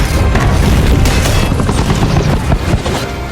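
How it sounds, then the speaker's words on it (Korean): A helicopter explodes in the film Madame Web, a loud, dense, rumbling blast with crackling debris that fills the whole moment without pause. "심지어 폭죽을 맞고 헬기까지 폭발하고 마는"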